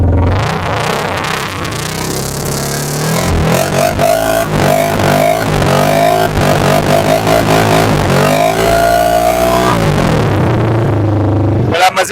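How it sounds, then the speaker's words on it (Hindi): A loud, raw exhaust on a UM Renegade Commando 300 motorcycle with baffles removed blats and revs repeatedly, the engine climbing and dropping in rapid throttle blips at close range. "कस्टमर ने इसके अंदर से बैफल निकलवाए हुए हैं तो इसलिए बाइक का साउंड जो है वो लाउड हुआ हुआ है"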